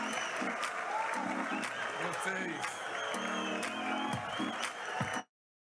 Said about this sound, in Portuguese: mais uma vaia para o presidente Lula, intercalada com alguns aplausos